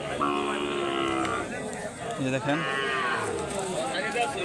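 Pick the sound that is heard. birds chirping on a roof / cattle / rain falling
cattle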